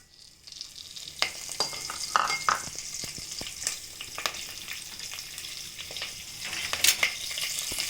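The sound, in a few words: curry leaves sizzling in hot oil for avial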